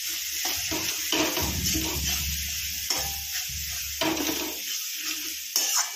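Garlic paste frying in a pan for a spicy dried-fish dish, stirred with a spoon: steady sizzling with repeated scraping strokes of the spoon against the pan, close and fairly loud, with no talking.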